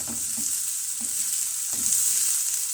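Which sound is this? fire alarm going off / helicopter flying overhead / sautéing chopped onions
sautéing chopped onions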